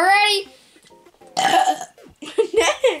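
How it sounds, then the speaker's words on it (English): A child lets out a loud, drawn-out burp, followed by excited speech and giggly voices close to the microphone. "I'm about to burp."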